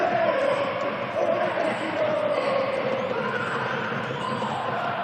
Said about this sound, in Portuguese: Vamos curtir um pouquinho a torcida.